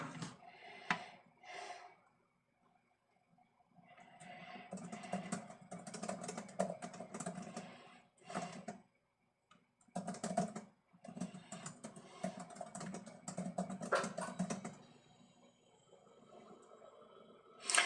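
Rapid clattering keystrokes on a computer keyboard come in uneven bursts with short pauses, close and fairly quiet, no one speaking.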